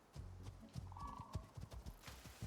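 A horse in the survival video game Icarus clip-clops along at a steady, quick trot, its hooves thudding rhythmically close by, and a short whinny rises midway through the faint passage.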